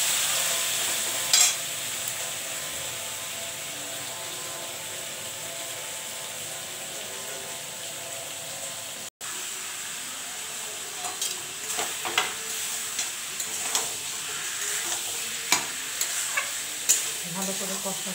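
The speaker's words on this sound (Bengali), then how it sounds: "এবার ভালো করে নাড়াবো।" Mutton frying in a pan while being stirred for mutton kosha: a steady, close sizzle with repeated scraping and rubbing strokes of a spatula, growing busier toward the end, and no one talking.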